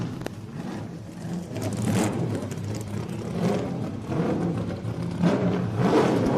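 A push-started NASCAR race car with a 358 cubic inch engine fires up and revs at the American Speed Festival, giving rough, surging bursts of engine noise that rise and fall repeatedly at close range.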